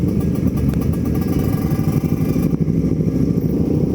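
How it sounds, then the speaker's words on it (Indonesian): A Yamaha R6 motorcycle engine runs steadily and loudly up close while touring on a road, a continuous throaty drone with no voices. "Ini motor R6 ini plat BK guys"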